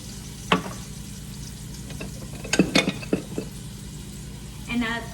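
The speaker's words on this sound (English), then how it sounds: "you want to go ahead and stir" Onions and garlic are stirred into a pot of marinara sauce, a soft steady sizzle with a few sharp scrapes and clinks of the spoon against the pot, and a brief voice near the end.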